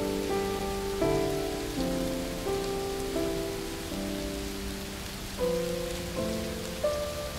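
Steady rain falling, a soft continuous hiss spread evenly throughout, heard beneath a louder sustained musical accompaniment of slowly changing chords, with no talking.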